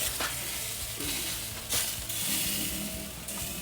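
Continuous crackling sizzle of burgers cooking on a hot Masterbuilt Gravity Series 560 grill, with a few scraping, clattering utensil sounds over it and no talking.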